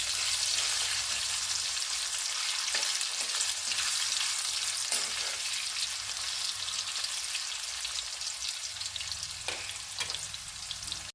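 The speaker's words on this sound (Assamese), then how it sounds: "মই এতিয়া আলুকেইকণ দি দিছোঁ আৰু অকণমান নিমখ দি আলুকেইকণ ফ্ৰাই কৰি ল'ম।" Potato pieces frying with salt in mustard oil in a wok, a soft, continuous sizzle with occasional faint stirring clicks, heard alone without talk.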